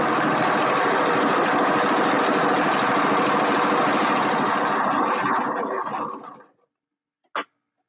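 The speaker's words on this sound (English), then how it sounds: "he turned on the vacuum" A household vacuum cleaner runs loud and steady with a dense broadband roar, then cuts out and winds down, followed by a brief faint knock near the end.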